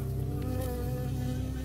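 A bee buzzes steadily and loudly close by in the video game Firewatch, a continuous droning hum over an outdoor game ambience, with no talking.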